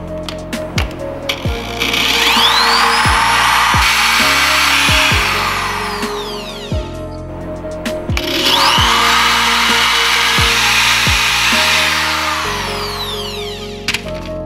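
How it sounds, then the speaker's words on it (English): A power drill bores holes for a Rennline aluminum pedal kit on a BMW E46, two long loud whirring runs that rise and fade, separated by brief pauses and clicks, with no talking. "we drill out those holes"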